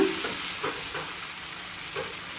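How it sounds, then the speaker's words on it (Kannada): A roti cooking in a hot pan gives a steady, even sizzle and hiss, with soft intermittent scraping taps recurring over it and no voices. "ನೋಡಿ ರೊಟ್ಟಿ ಸೌಂಡ್ ಬಡಿತಿರೋದು ಕೇಳಿಸ್ತಿದೆ"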